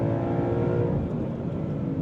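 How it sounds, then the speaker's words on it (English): A Ford Mustang GTD engine revs hard near its limiter with a quick paddle upshift through a dual-clutch transmission, heard as a loud, steady, close mechanical drone with no talking. "Upshift right before that hard rev limiter."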